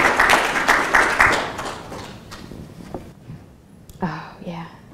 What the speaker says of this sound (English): I'll take a clap.